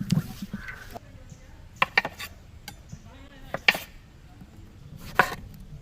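Sharp knife taps on a cutting board while chopping vegetables, a few scattered chops rather than a steady rhythm, with faint voices and kitchen clatter in the background.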